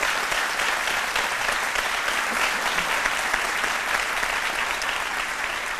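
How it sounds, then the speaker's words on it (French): Sustained applause from a studio audience on a French-language midday television talk show, steady and dense throughout with no talking over it. "on doit vous applaudir"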